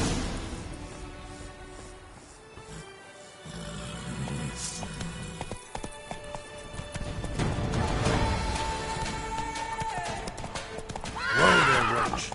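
Roach, Geralt's horse in The Witcher 3: Wild Hunt's Blood and Wine expansion, whinnies loudly near the start, then gallops with steady clip-clopping hooves, ending in another sharp neigh over game ambience.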